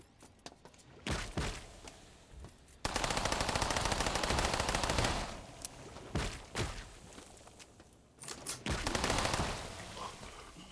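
Loud, rapid automatic gunfire from a weapon in System Shock Remake, coming in long sustained bursts broken by short pauses and scattered thumps, with no talking.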